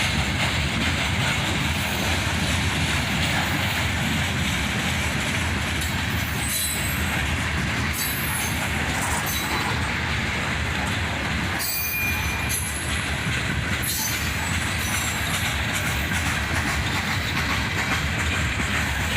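Freight cars, including an old Northwestern car and a rusty Soo Line car in a CSX train, roll past on the rails close by with a loud continuous rumble, clattering wheels and occasional high squeals.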